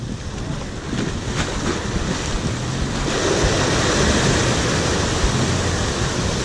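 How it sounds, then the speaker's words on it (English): Ocean waves wash and roar around a fishing boat off Ascension Island, a steady loud surge that thickens after a few seconds, with wind buffeting the microphone throughout. "The ocean."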